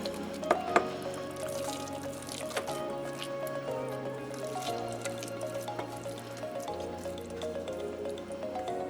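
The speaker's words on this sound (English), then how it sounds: "and then just pour the rice mixture right into the pan." A thick rice mixture is poured into an 8x8 baking pan sprayed with nonstick spray, making soft wet squishing and dripping plops over a steady low hum.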